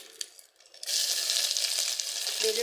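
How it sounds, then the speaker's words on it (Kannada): Garlic goes into hot oil in a pan already holding Byadagi chillies, for thogari bele saaru. A few quiet clinks give way to a sudden loud, sustained sizzle up close. "ಸ್ವಲ್ಪ ಫ್ರೈ ಮಾಡೋಣ."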